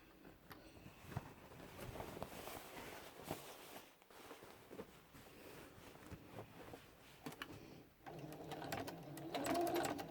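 A domestic sewing machine stitches binding around the edge of a quilt, a steady run of close needle chatter that pauses briefly midway and then resumes louder.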